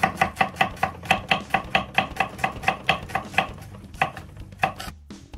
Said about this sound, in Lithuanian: dabar supjaustom svogūnus pusiau žiedais